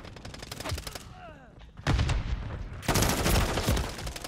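Gunfire during a Call of Duty MW3 multiplayer match, rapid bursts of close, loud shots in quick succession, a brief pause, then heavier sustained firing, with a faint voice talking under it.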